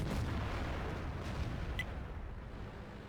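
Heavy artillery and airstrike explosions boom through a World of Tanks Tier 10 Clan Wars battle on the Prohorovka map, a dense continuous rumble of blasts with no speech.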